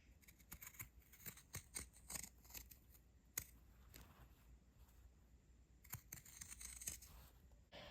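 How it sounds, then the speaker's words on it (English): Pinking shears snip through fabric in a series of faint, crisp clicks, some quick and clustered, others spaced apart, heard up close in a quiet room. "let me cut it with the pinking shears."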